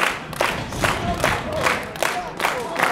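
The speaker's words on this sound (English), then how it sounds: "Oh, listen to this crowd." A wrestling crowd at a Wrestling Invades America event cheers and shouts in rising bursts, loud and close, with rhythmic surges of chanting and some clapping throughout.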